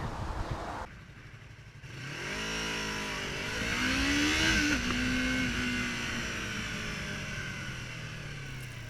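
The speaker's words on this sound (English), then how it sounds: "Say hello to the Yamaha R3." Yamaha YZF-R3 320cc sports motorcycle engine pulling away, the revs climbing smoothly to a peak and then settling into a steady cruising drone with wind noise, no talk.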